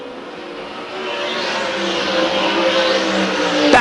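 Race cars roar around a dirt track on the final lap of a B-Mod main event, a loud, sustained engine drone that swells and rises in pitch as the cars pass close by.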